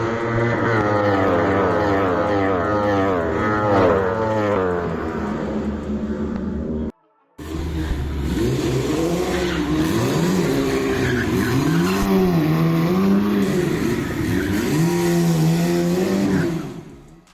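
A race car engine roars loudly and continuously at the Indian Racing Festival, pitch rising and falling through gear changes, with a brief cut in sound midway.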